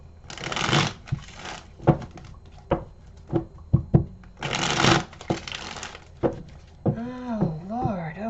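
Tarot cards shuffled by hand in bursts, crisp riffling and sliding with taps and snaps between, close and fairly loud, followed by a person speaking at the end.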